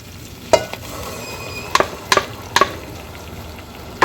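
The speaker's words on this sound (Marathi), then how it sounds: "आता या टमाटर प्युरीला पण छान परतून घ्यायचं आहे" Tomato puree and spices for a capsicum bhaji being sautéed in a pan: a low bubbling sizzle under a handful of sharp spatula taps and scrapes against the pan, close up, with no speech.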